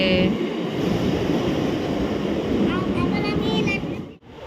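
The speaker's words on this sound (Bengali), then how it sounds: "ট্রেন ঢুকে গেছে" A continuous heavy rumble of a train rolling in, with people talking over the steady mechanical roar.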